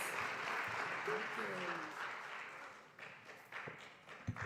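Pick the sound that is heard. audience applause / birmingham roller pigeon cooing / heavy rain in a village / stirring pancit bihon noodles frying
audience applause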